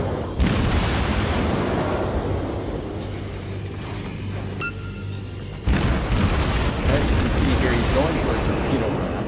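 A Phoenix-class cruiser in World of Warships fires a broadside, heavy booming gunfire that sets off a loud rumbling blast over continuous engine and sea noise, with a voice talking over it.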